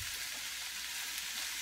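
Vegetables frying in coconut oil in a pan give a faint, steady sizzle that continues evenly throughout.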